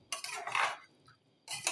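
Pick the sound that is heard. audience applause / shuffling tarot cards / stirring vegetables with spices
stirring vegetables with spices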